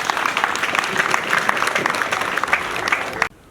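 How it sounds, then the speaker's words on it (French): An audience at a formal launch event in Côte d'Ivoire against the high cost of living applauds a trade official, loud dense clapping with some crowd noise that stops abruptly near the end. "Sous vos acclamations."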